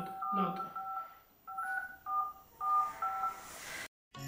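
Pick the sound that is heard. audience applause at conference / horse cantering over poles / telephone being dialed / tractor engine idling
telephone being dialed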